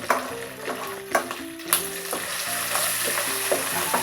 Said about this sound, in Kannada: ಗ್ಯಾಸ್ನ ಮೀಡಿಯಂ ಫ್ಲೇಮ್ನಲ್ಲಿಟ್ಟು ಇದನ್ನ ಚೆನ್ನಾಗಿ ಫ್ರೈ ಮಾಡ್ಕೋಬೇಕು